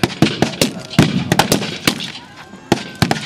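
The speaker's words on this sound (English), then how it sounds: "I can see a machine gun post out there, but the British infantry happy to trade shot for shot" Rapid gunfire from a staged Boer War battle reenactment at Kelmarsh, with irregular loud blank shots and bursts cracking close by, a voice faintly underneath.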